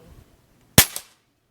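A single sharp crack from a customized Benjamin Maximus .22 air rifle, close and loud against near silence, followed by a brief clattering echo.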